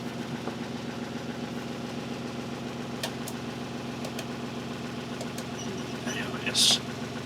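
A 35ft sailing yacht's engine idles steadily at the marina, a low even rumble with faint knocking that runs throughout, heard up close with a few small clicks and a brief bump near the end.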